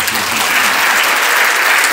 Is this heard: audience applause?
yes